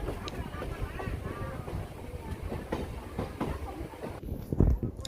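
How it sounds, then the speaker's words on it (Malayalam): A train pulls into Parangipettai railway station in Tamil Nadu with a continuous rhythmic clatter of wheels and rail cars, moderately loud and close, and a brief louder knock comes near the end. "പറങ്കിപ്പേട്ട റെയിൽവേ സ്റ്റേഷനിലേക്കാണ് നമ്മുടെ ട്രെയിൻ എത്തിയിട്ടുള്ളത്"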